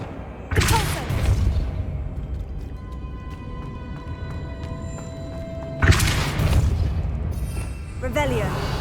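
A Depulso force spell cast in the Hogwarts Legacy video game lands as two sharp, booming blasts a few seconds apart, each with a rushing burst that fades, over a low game ambience.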